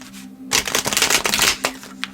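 A tarot card deck is riffle-shuffled up close: a burst of crisp, rapid card flutter lasting about a second, followed by a few softer taps and a final snap as the cards settle.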